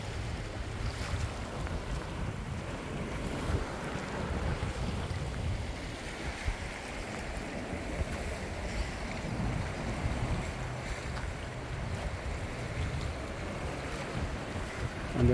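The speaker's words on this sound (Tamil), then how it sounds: "பாருங்கள் அங்காலே பெரும் கடல்." Sea waves and wind on Salli Amman beach at Trincomalee: a steady, loud, continuous wash of surf with wind buffeting the microphone throughout, no voices.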